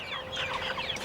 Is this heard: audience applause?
no